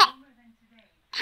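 An adult voice mimics a baby's hiccup in a single short sharp burst, close and loud, with speech around it.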